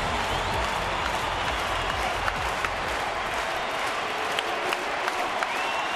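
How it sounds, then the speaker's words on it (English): Baseball crowd at Safeco Field cheering and applauding in the top of the ninth with the Mariners holding a one-run lead, a broad, steady roar of thousands, loud and continuous with scattered claps. "Crowd on its feet here at Safeco Field."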